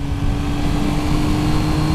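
A Triumph Trident naked motorcycle accelerating hard on a motorway from around 70 mph, its engine a loud, steady drone with a sustained tone and rushing wind, close and alone without talk.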